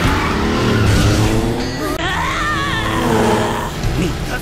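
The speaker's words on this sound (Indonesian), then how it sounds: "Tosuke kini naik di motor Furukawa dan pertandingan mereka pun dimulai" Motorcycle engines rev loudly as a race begins, with a rising whine and squealing tires sweeping across the steady roar of engine noise.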